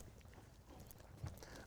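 Horse hooves walking forward at a steady rhythm during a riding session, soft clip-clop close by with no talk over it.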